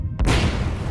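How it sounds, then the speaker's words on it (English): A propane-filled reboiler ruptures and explodes into a massive fireball: one sharp, heavy boom that rolls straight into a loud, sustained roaring rumble, close and overwhelming, with no voices. "Propane exploded from the reboiler and ignited to create a massive fireball."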